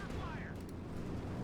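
Gunfire in the Company of Heroes 2 strategy game, a dense rumbling barrage of rifle and heavy weapon shots blending with explosions, loud and continuous with no clear gaps.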